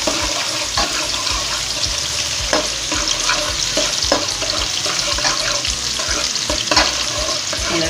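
Bodi sizzling in a pan with tomatoes, onion, garlic and pepper, a steady close crackle with scattered scraping stirs throughout and no talk.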